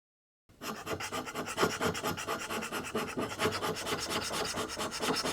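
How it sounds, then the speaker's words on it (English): Hand scraper working a mini lathe saddle clamped in a vise, giving a steady, close rasping scrape in quick repeated strokes that continues without a break after a short silent start. "give this a rough scrape a few times just to get it leveled"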